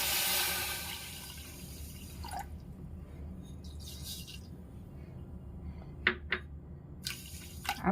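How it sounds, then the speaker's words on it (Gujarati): Water poured into a cooking pot holding sugar for a syrup, a brief rushing pour at the start that fades into quiet, followed by a few sharp drips and small splashes. "આપણે એમાં પાણી પણ એડ કરી દઈશું"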